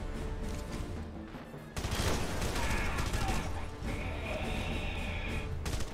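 Gunfire in the video game Red Faction Guerrilla erupts as a dense, loud volley of overlapping shots that carries on with only slight pauses.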